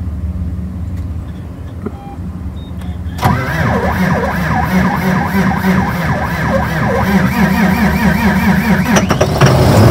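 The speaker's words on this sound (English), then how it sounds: "He's going to go ahead and start her up." A tractor's engine cranking and catching, starting a little slow, then settling into a loud, steady close-up rumble with a whining tone that runs for several seconds.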